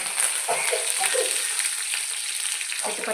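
Tempering seeds, two or three dried red chilies and curry leaves crackle and sizzle in hot oil, a bright steady hiss with a few spitting pops and a short stir, close and alone.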